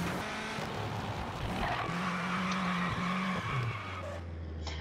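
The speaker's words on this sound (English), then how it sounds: "And I spun out once again." A car skids and spins out in the racing game V-Rally 4, its tires squealing in drawn-out, wavering tones over a steady, loud engine drone that drops away near the end.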